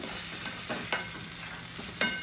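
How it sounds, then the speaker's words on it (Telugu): Curry leaves are stirred into masala frying in a pan for a drumstick curry made with sesame and mustard paste: a steady close sizzle with a few spoon scrapes, and no voices. "అలాగే కరివేపాకు కూడా దీంట్లోనే వేయాలి, మంచి వాసన వస్తుంది అన్నమాట. కలుపుకొని"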